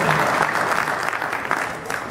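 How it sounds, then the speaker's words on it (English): Audience applause fills a union convention hall at the New York State AFL-CIO gathering, a steady, dense clapping from a large crowd that holds at an even level throughout, with no speech over it. "You can clap for that,"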